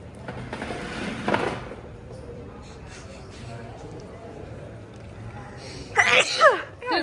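A single sharp sneeze bursts out, followed by a quiet stretch before people start talking.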